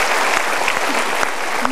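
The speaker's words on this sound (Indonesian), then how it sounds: "Kita berikan tepuk tangan dulu." Studio audience applause at an Indonesian motivational talk show, a dense, steady wash of many hands clapping close and loud throughout, with a faint voice briefly showing through near the end.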